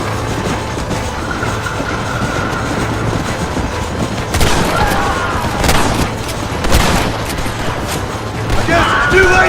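Gunfire from a Red Dead Redemption shootout rattles loudly in scattered volleys and sharp cracks over a rumbling background, with shouted voices breaking in.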